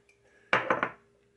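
Marinated teriyaki beef set back into a bowl, giving a short cluster of three close, clattering knocks of meat and container, with no talk.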